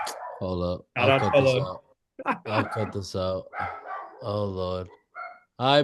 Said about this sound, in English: Sorry for my dog acting like a goddamn wild animal.